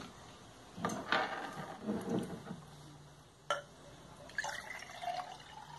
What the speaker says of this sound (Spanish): Llenamos nuestro vaso con agua